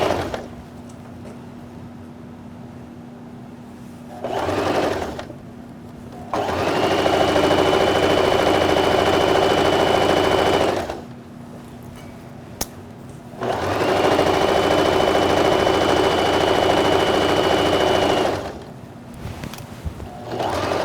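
A sewing machine stitches the inseam of pajama bottoms, running in two long steady bursts of several seconds each with quiet pauses between, loud and close with no talking.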